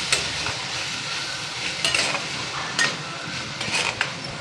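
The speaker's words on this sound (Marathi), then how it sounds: "पुन्हा गॅस बारीक करायचा आणि ह्याला पुन्हा परतून घ्यायचं आहे." Peas and potato curry sautéed in a pan over low heat, a soft continuous fry with occasional light scrapes and clinks of a spoon against the pan, close and without talking.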